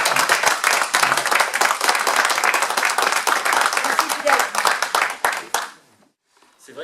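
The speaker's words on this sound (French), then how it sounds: "Je vous demande de vous lever puis de l'applaudir." A standing audience at a debate on national identity claps loudly and steadily for several seconds. The dense, close applause thins out and stops near the end, leaving a short silence before a few faint sounds return.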